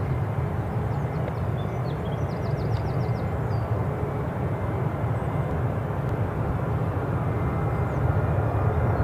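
Jet airliner climbing away from Newcastle International, shedding de-icer fluid, heard as a steady low engine roar with distant birdsong chirps above it.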